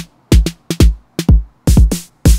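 Snappy TR-808 drum-machine snare hits land in a tight rhythmic pattern with heavy low kick booms, close and punchy, repeating several times with nothing else audible.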